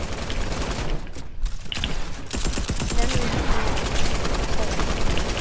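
Gunfire in the video game Fortnite, a dense, continuous rattle of rapid shots running throughout, with excited talk over it.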